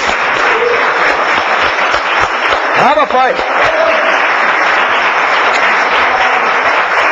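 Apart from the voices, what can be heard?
church congregation applause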